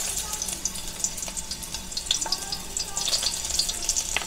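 Onion sautéing in a little cooking oil for ginisang ampalaya, giving a bright, continuous sizzle with scattered pops and spatters that carries throughout, up close and fairly loud.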